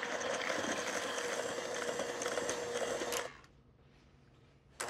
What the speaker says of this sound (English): I'm gonna put the flour in a little bit at a time and give it a mix.